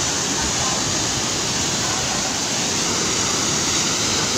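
Laligan Falls in Valencia, Bukidnon pours in a dense, steady roar of falling water, loud and close, a continuous broadband rush with no pauses.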